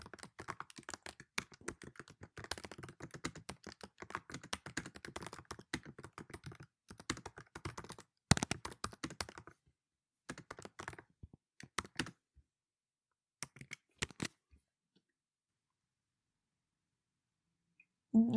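Keys clatter on a computer keyboard as Python code is typed, in a steady fast stream of taps for about ten seconds, then sparse keystrokes fading to silence, close and quiet with no voice.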